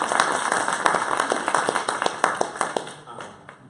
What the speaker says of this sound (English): Nice round of applause for Ty, of course.